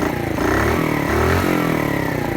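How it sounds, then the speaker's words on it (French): A Skyteam Dax 50cc motorcycle engine turns over on its electric starter and runs, a close, steady buzzing putter with slight rises in pitch, no talk over it. "Donc là, hop, vous avez le démarreur électrique."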